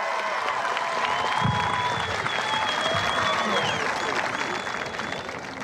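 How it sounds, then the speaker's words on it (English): A large crowd applauds continuously at a high school graduation ceremony in a big hall, with a few cheers and whistles rising over the sustained clapping. "How about another round of applause for NJROTC and a Randy for singing that national anthem"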